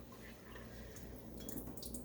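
Liquid draining from a turkey roaster with a vented lid, a steady soft trickle and drip of water-like fluid close by, continuous for about two seconds without talk.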